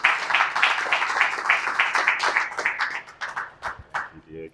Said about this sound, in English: If we can get a round of applause welcoming him.